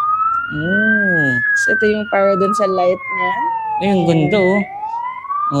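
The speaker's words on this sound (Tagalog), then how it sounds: "naririnig nyo yun, guys? Yun yung sirena ng bumbero." A toy Little Rider PH ride-on fire truck plays its electronic siren, a loud rising and falling wail running throughout, with a person talking and exclaiming over it.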